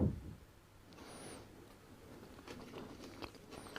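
Close, crisp crunching of someone chewing crunchy cabbage, with soft repeated bites and faint background noise.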